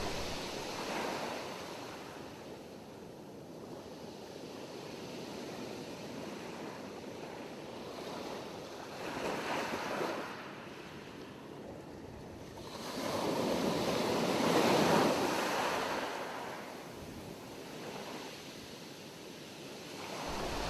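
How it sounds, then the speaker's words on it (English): Ocean waves roll onto a sandy beach and draw back in slow, steady surges, with a broad wash of surf that swells louder toward the middle and then eases, heard alone with some wind. "Listen to the sounds of the water rolling in over the sand and then back out to sea."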